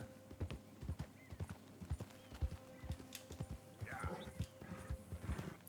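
Horse hooves clip-clopping in the video game Dragon's Dogma 2, a steady run of sharp hoof strikes close by, with a brief whinny near the end and voices talking over parts of it.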